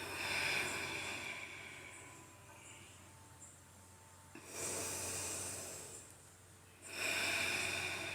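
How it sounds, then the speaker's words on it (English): Slow, deep breathing during a yoga class, held in a lying stretch on a mat with the right leg extended, toes toward the ceiling; long, airy inhales and exhales rise and fall close by, with quiet stretches between them and no talk. "Breathing here."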